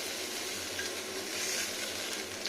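Eggplant frying in a pan, with a steady, close sizzle and crackle that continues without a break.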